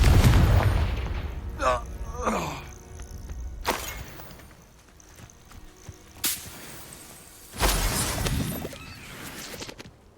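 Confringo blast spells in the Hogwarts Legacy video game, several sharp whip-like bursts and booming impacts spaced out over combat noise, with a voice calling out in between.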